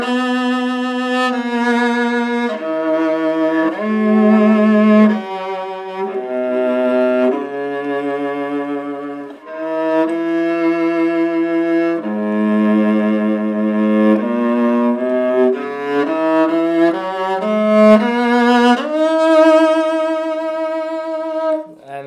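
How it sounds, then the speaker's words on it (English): A 16.5-inch Ming-Jiang Zhu 909 viola strung with octave viola strings plays a bowed melody, deep cello-like notes sustained and shifting steadily, loud and close with no talking. "I do really want to hear what these sound like on a Ming-Jiang Zhu 909 viola"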